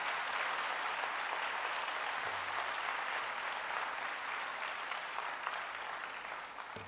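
Sustained, even applause fills a hall at a talk on visualization techniques, many hands clapping steadily and fading slightly toward the end, with no voices over it.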